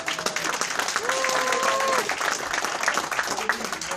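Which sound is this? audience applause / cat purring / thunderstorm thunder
audience applause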